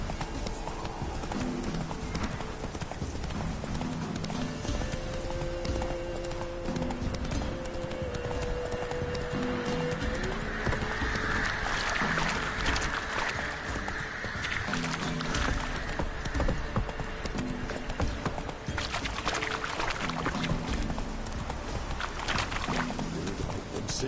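Hooves of the horse Roach clip-clop in a steady running rhythm in a video game, close and continuous, with a background music bed and occasional brief speech.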